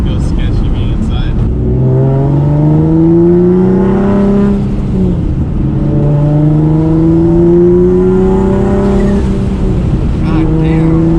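A gutted race car running on E85 accelerates hard, its engine note climbing in long repeated sweeps through the gears, loud and close throughout with no voices breaking through.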